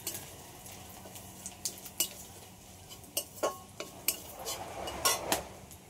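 Ginger and panch phoron fry in hot oil under a low sizzle, while a utensil stirs and clinks irregularly against the pan, the taps growing busier toward the end.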